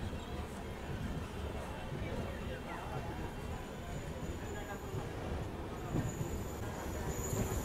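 Golconda Express passenger train pulling out of Madhira station, heard from on board as a steady, loud rumble of wheels and carriage noise with a faint clatter, continuous throughout.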